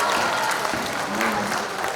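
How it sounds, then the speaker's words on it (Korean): Audience at a sixth-grade debate competition ceremony claps for the parents in the hall, a dense, loud, even wash of applause throughout. "부모님께 큰 박수 한번 보내드릴까요?"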